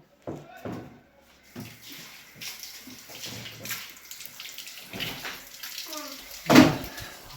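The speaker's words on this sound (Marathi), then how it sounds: "दे ना धुवून खायचं असते ते धुवून देते" Fruit, apples among it, rinsed under a running tap at home: an uneven wash of flowing water with knocks and clunks, a louder splash near the end, and voices heard faintly in the room.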